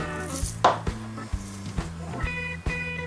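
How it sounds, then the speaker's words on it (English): Butcher's twine is cut away from a prime rib roast to free the ribs, giving a series of sharp knife taps and clinks on a board at an uneven rhythm, close and fairly loud. "Simply cut the butcher's twine and they'll fall right off."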